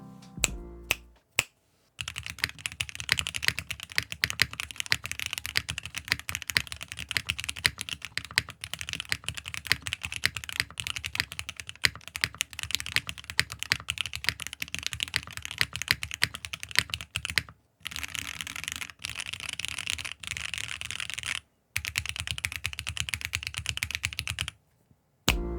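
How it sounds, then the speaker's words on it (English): Fast, steady typing on a mechanical keyboard with Wikuo Harmony switches and PBT keycaps, crisp clacky keystrokes in close, continuous bursts broken by a few short pauses. "Let's take a listen with some PBT keycaps."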